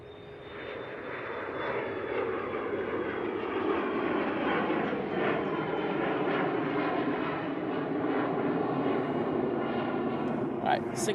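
An Embraer Praetor business jet rolls for takeoff at Manchester Airport, its engine roar swelling and whining steadily louder over several seconds, with voices now and then in the background.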